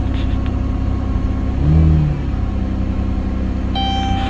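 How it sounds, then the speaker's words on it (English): A 2011 Chrysler Town & Country minivan engine with about 188,000 miles and its check engine light on idles steadily with a low rumble, briefly revving up mid-clip before settling back to a smooth idle. "Engine seems to run okay."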